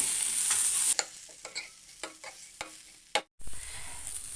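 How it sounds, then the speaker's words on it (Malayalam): Soft sizzle of grated coconut sautéing under repeated scraping strokes of a spatula in a pan, several distinct clacks spaced about half a second apart, close by. "അതും ഇതേപോലെ ഒന്ന് നല്ലോണം ഒന്ന് വാട്ടിയെടുക്കാം"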